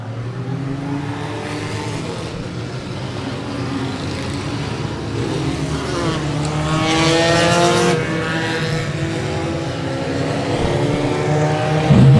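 Race cars at the start of an enduro race accelerate together, a loud dense engine roar with rising revs that swells midway and stays heavy and continuous throughout, without voices.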